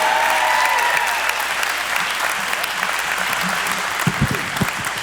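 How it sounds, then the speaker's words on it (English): Roaring audience applause at a stand-up comedy club in Kentucky greeting the comedy duo Bean and Bailey, a dense continuous wash of clapping with scattered cheers that holds steady throughout. "please make their dreams come true by giving them a roaring applause that their mothers will be proud of"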